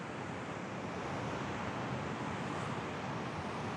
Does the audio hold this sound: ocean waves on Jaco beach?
yes